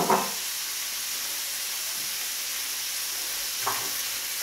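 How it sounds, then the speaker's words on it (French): Rice hitting a hot pan with cod in mandarin sauce sets off a steady, loud sizzle and frying hiss that holds throughout, with a couple of brief stirring scrapes near the start and end. "Je vais ajouter le riz comme ça."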